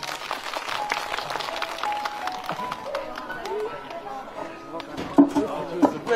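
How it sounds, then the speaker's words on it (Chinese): An audience at a New Year charity gathering claps to welcome a dance performance, a steady wash of applause under voices and background sound that lasts the whole stretch. "大家掌声有请。"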